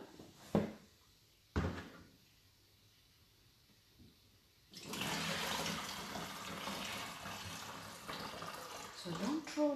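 Cloudy water from rinsed rice is poured out in a close, steady splashing stream lasting about five seconds, preceded by two sharp knocks of a container in a quiet kitchen.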